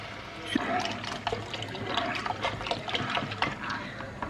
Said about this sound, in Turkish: Bu aşamada sütümü ekliyorum